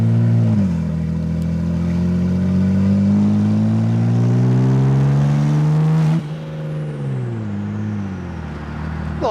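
A BMW 335i wagon pulls hard through a gear into boost, its engine note rising steadily and loud for several seconds before easing off, with no talking.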